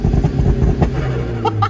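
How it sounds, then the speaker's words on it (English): A DIY turbocharged Mazda MX-5 Miata holds revs on homemade launch control, giving a rough, crackling engine burble with pops, close and loud, settling into a steadier drone near the end. "this is the sound of the launch control system"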